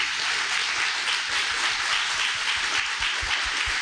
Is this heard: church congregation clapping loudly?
yes